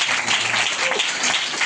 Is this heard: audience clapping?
yes